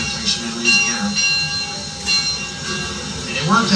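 An 1897 steam locomotive, built for a Louisiana sugar plantation, hauls passenger coaches with a continuous rolling rumble, clanks and brief squeals or bell tones, and people can be heard talking alongside it.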